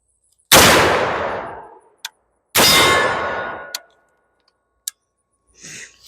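Two loud, sharp gunshots from a budget .50 caliber AR-15 rifle, each a booming crack with a long decaying tail, followed by small metallic clinks and a brief rustle.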